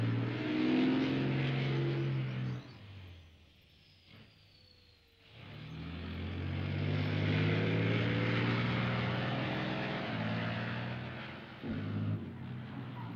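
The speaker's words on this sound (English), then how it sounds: "The tank can turn on its own axis in a mere 5 seconds." A Leopard 2 battle tank drives with a loud engine roar that drops away briefly, then surges back and holds steady.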